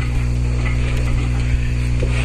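Bench vise cranked to press control arm bushings into place, giving a steady grinding, ratcheting mechanical noise that runs continuously and close by without pause.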